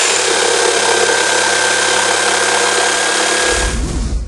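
A corded electric jigsaw cuts a circle out of a beech table top with a steady, loud buzzing whine that runs continuously before stopping abruptly near the end, with no talking.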